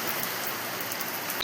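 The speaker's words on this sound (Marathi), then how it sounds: "असला खतरनाक पाऊस चालू आहे." Heavy rain pours down outside a shop in a dense, unbroken hiss of drops that stays constant and fairly loud, with no talk.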